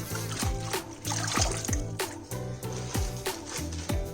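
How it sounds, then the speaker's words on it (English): Cabbage leaves are washed under cold running water, with a steady trickling stream and repeated splashes and knocks as the leaves are handled and rinsed close up in a kitchen. "Now wash them in a cold water. Wash it well."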